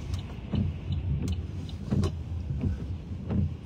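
Cars pulling away and driving out of a tunnel, engine and tyre noise rising and falling in several close passes with a few sharp knocks, echoing faintly in the enclosed space.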